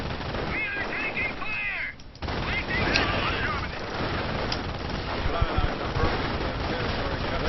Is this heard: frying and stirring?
no